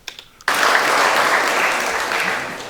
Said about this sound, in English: You're getting an applause at Oxford University.